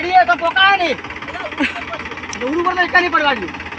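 A tractor engine idles with a low, steady rumble beneath continuous close-up conversation between several people.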